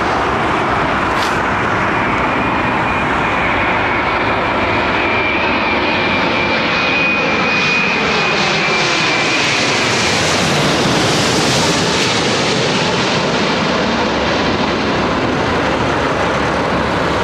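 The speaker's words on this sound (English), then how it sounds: "See how the Boeing wing, this 787, will just literally straighten right out as it lands." A Boeing 787 on its landing approach at London Heathrow gives a loud, sustained jet engine roar lasting throughout, swelling and shifting in tone as the aircraft passes, with broadband wind-like rush.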